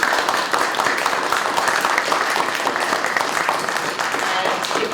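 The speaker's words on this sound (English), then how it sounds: "I'd love to thank our lovely panelists with a round of applause." An audience at a college panel on nonbinary people in the workplace claps for the panelists, a sustained, fairly loud wash of applause with scattered sharper claps throughout.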